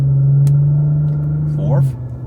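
A car engine hums steadily while shifting into third gear and braking on a winding mountain road, then the tone dips and quiets near the end.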